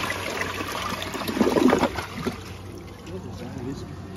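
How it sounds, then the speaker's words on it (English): A toilet flushing, a short gush of rushing water swelling then trickling away to a faint draining hiss, close by, with a voice heard around it. "Let's flush the green ribbon."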